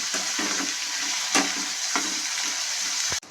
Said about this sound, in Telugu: పచ్చిమిర్చి వేద్దాం. కట్ చేసిన ఉల్లిపాయ వేద్దాం.